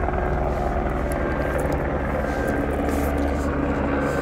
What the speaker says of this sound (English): That gum helicopter. Police helicopter.